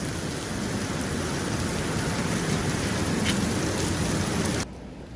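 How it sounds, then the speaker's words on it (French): Heavy rain pours steadily in Singapore, a dense, loud wash of drops on surfaces continuing without pause before dropping abruptly quieter near the end. "il pleut encore, mais ça s'est un peu calmé"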